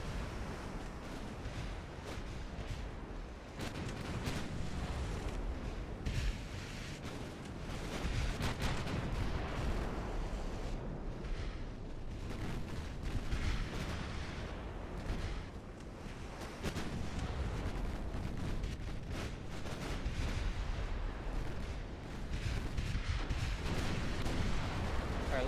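Naval guns fire and torpedoes strike in a warship battle video game, a continuous rumbling barrage of distant booms and explosions over a roar like wind and water, with dense low thuds throughout.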